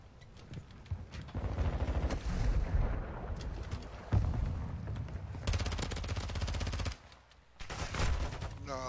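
During Call of Duty gameplay, bursts of rapid gunfire and explosive blasts crowd together loudly and keep coming, with only short lulls between the volleys.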